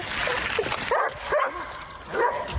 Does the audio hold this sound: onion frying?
no